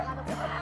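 A brief, close squawk from a large native rooster, a single harsh cluck lasting under a second.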